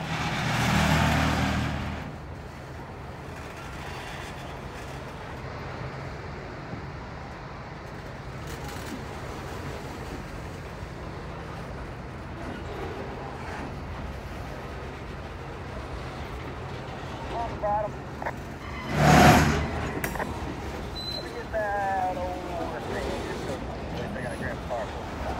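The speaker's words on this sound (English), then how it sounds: "Right here they come, ready to shove across the road." Two locomotives on the Cincinnati Eastern Railroad short line shove a train across a road into Huhtamaki, a low continuous rumble with a louder horn-like burst near the start and a sharp metallic clank later on.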